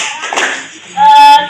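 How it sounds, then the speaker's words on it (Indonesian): Students in a high school Islamic jurisprudence class give a short, loud burst of applause that rises at the end, mixed with a teacher's voice. "tepuk tangan dulu untuk kelompok 2"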